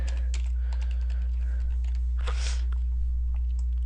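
Quick keyboard typing on a computer, a short run of clicking keystrokes with a denser burst partway through, steady hum underneath.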